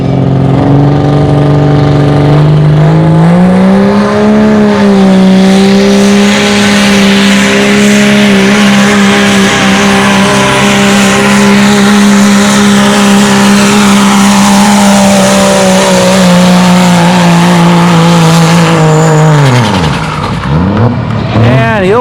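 A black and white Dodge pulling truck at a tractor pull: a loud, sustained engine roar holds steady near the listener for about twenty seconds, then drops off sharply toward the end, with an announcer talking over it.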